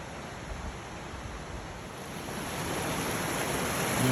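Creek water flowing near camping areas on the Three Ridge Wilderness Loop, a steady broadband rushing that swells slightly louder toward the end, with no voices.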